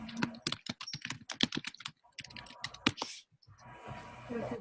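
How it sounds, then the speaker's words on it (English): Rapid typing on a computer keyboard, a close run of sharp key clicks with short pauses, a brief lull, then a softer tail of background noise. "I'm just typing it out as you talk it."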